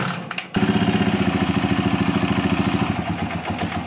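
A small engine idles after a short knock, settling into a loud, even, rapidly pulsing chug that stays close and steady throughout.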